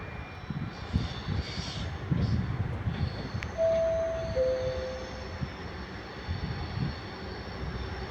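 A Trenitalia train pulling into a platform at Padova station, a broad steady rumble with faint tonal whines and passing clatter, heard amid the open station ambience.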